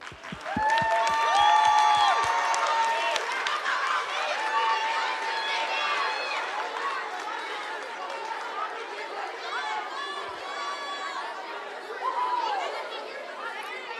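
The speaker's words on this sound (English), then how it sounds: "A loud round of applause," At a school graduation ceremony, an audience applauds: sharp individual claps at first, then a sustained wash of clapping mixed with crowd chatter that gradually thins, with voices throughout.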